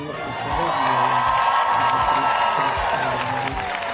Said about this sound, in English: let's get a big cheer, everybody